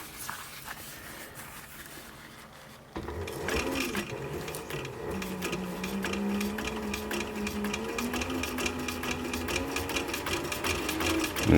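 A sewing machine stitches a thick leather military patrol cap, starting with quiet handling noises before a fast, steady mechanical clatter runs up close and continuous.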